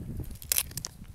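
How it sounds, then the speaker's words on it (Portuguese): Old cinnamon tree leaves bitten and chewed up close, giving a quiet crisp crunch with brief crackles and soft mouth noises, no talking. "Mastigo toda ela e ainda engulo."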